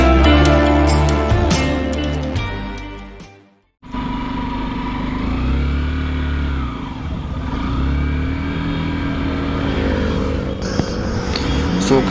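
A Royal Enfield Himalayan BS6 or Hero XPulse 200 BS6 motorcycle engine rumbles and revs during a test ride, with music at first, then a steady close engine drone with rising and falling revs.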